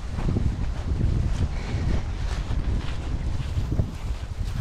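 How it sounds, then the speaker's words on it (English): Steady wind buffeting the microphone at Evangola State Park, a constant low rumble with gusty fluctuations and no voices. "Probably can't hear any of this because it's windy as shit."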